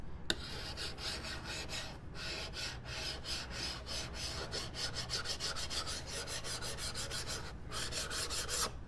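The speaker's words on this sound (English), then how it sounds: "carbide scraper is the only proper way to do that. And you'll just go over it like this, and it makes the surface completely flat without scratching it." Carbide scraper scraping built-up gasket residue off a flat engine surface on a 2.5L Jetta, repeated rapid rasping strokes in a fast steady rhythm, close and loud, with a short pause before the strokes resume.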